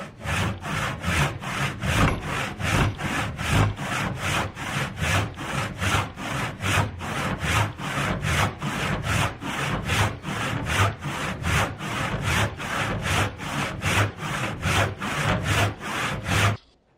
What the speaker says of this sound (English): the less wood I'm actually attacking with this saw, this is very hard wood